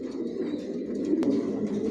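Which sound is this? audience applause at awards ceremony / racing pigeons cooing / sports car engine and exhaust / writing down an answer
racing pigeons cooing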